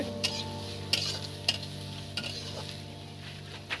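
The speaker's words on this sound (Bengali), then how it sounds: "এবার দেখুন বন্ধুরা পেঁয়াজটা ধীরে ধীরে নাড়তে থাকতে হবে।" Onions are stirred slowly in a frying pan for a mustard paste recipe, with a low continuous sizzle broken by regular sharp scrapes and taps of the spoon against the pan, roughly every half second, no talk.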